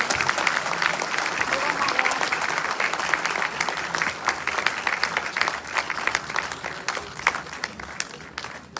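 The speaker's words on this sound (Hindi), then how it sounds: "जोरदार तालियों के साथ स्वागत कीजिए इनका" Sustained crowd applause at a CSS Day 2023 ceremony in Delhi's Ambedkar International Centre, greeting an officer receiving a distinguished service award; dense, steady clapping fills the hall throughout, with some sharper individual claps near the end.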